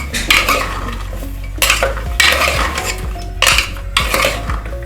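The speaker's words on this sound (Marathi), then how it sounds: "आता भाज्या आपण 2 ते 3 मिनिटं व्यवस्थित फ्राय करून घ्यायच्या।" Vegetables for pav bhaji being stirred and fried in a pan, loud repeated clanks and scrapes of a metal spatula against the pan in bursts, with only a light sizzle underneath.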